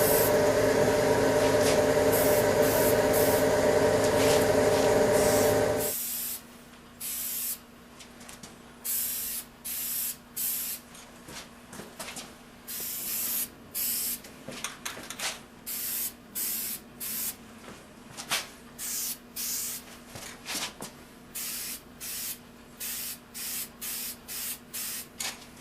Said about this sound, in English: Spatter coat.